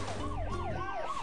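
Wailing police car siren from the video game Tasty Planet, a steady rising and falling electronic whoop repeating about three times, loud and close over a low hum.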